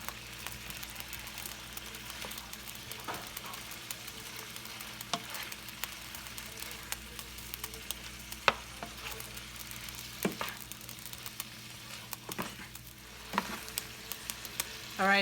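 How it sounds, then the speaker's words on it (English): Shrimp sizzle steadily in a pot for Cajun jambalaya pasta, a constant broadband frying hiss with scattered sharp pops and crackles, moderately close and heard alone with no talking. "Now we're just going to cook this for a couple minutes until the shrimp are pink, which should take no time at all."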